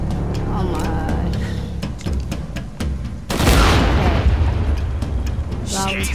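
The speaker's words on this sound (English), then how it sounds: "something exploded on your end?" A heavy explosion in the action game Shadow of the Tomb Raider bursts in midway as a loud, broad roar after scattered gunfire-like pops, with a voice talking faintly before it.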